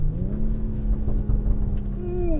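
A 2019 BMW X4 M40i with a 3-liter inline six gives a steady, close exhaust drone on a downshift, its pitch climbing and then easing near the end.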